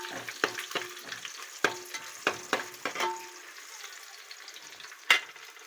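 Green chilies and carrot go into a pot of hot oil while basmati rice is being prepared, giving a string of sharp crackles and spatters then a fading sizzle, with one loud pop near the end.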